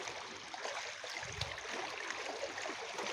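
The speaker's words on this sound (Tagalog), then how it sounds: "Dinig mo ba yan? Ang hampas ng alon." Sea waves crash and wash onto the shore near a cave, a continuous close rushing roar with little variation and no talking.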